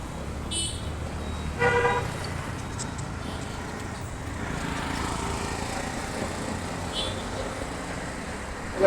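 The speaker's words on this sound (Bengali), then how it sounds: "প্রচুর গাড়ি ঘোড়া।" Busy city road traffic in an urban area of Bangladesh, with a steady wash of passing vehicles, several short car horn toots early on and a few more later, continuous and moderately loud, with no talking.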